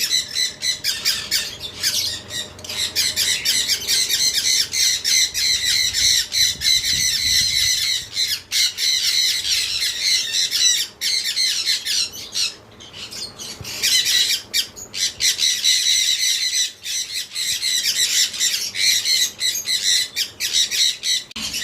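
Cockatiels in a large breeding aviary squawk almost nonstop, harsh shrill calls overlapping loud and close, with only a few brief lulls.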